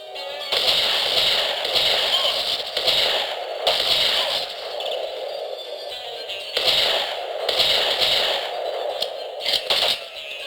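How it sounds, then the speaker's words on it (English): Repeated gunfire from the shooter game Contract J.A.C.K., fired in bursts against tough enemies in a coliseum arena, loud and up close with short pauses between volleys and no talking. "I have to shoot them in the head like 5 times before they actually die"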